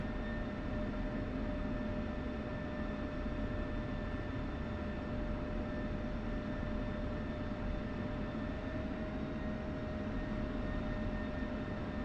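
F-16 jet engine whining and rumbling steadily as the fighter taxis to parking in DCS World, a continuous broadband roar with a thin high tone, no voices.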